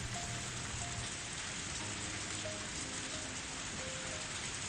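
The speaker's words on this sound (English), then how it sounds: "I didn't think it would rain this hard" Heavy rain in the video game Higurashi pours as a dense, even hiss that never lets up, with faint tonal game sounds just audible underneath and no talking.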